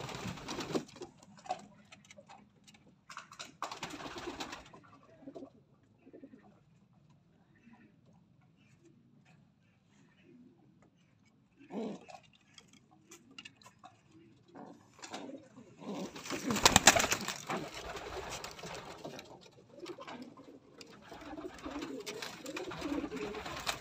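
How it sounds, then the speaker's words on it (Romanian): Soft, close cooing from a racing pigeon, short throaty phrases repeating at intervals over quiet background, with a few scuffs and taps and a brief louder burst near the end. "V-am spus, un porumbel foarte frumos."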